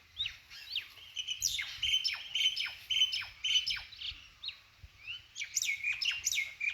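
Myna birds squabbling in a fight, a steady run of sharp, harsh chirps and squawks repeating close by, loud and busy throughout with brief pauses and no talk.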